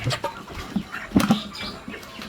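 Chickens at a chicken shop give a few close, scattered clucks and brief squawks, with some wing rustling mixed in.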